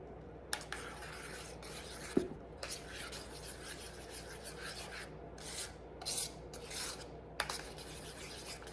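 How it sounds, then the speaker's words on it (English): Parmesan cheese being grated for a cottage pie: soft, repeated rasping strokes at close range, fairly quiet, with a few small clicks. "I'm gonna add my grated Parmesan cheese to be nice and cheesy."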